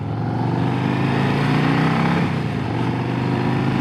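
A 2025 Harley-Davidson Road Glide ST CVO idles with a low, loud, rumbly engine tone. The uneven rhythm sounds close and steady throughout.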